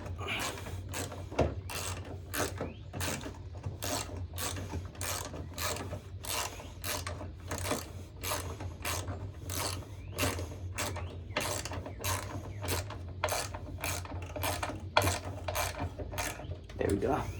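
Rapid steady clicks of a ratchet tightening the wheel bolt on a Honda HRX217 lawn mower, close and continuous over a low background hum.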